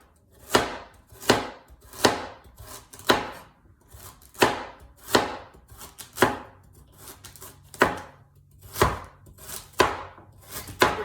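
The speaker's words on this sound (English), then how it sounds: "I'm just gonna chop up into rounds, and then we'll start with the celery" A knife chopping celery on a cutting board, about a dozen crisp, separate thuds at a steady unhurried pace, close and clear with no voices.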